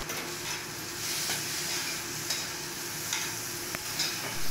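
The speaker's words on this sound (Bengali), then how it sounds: "ভালো মতো নেড়ে চেড়ে মশলাটা কষে নিতে হবে" Potatoes frying with ginger and green chili paste while being stirred in a pan, a steady close sizzle with soft scraping stirs and occasional small spatters.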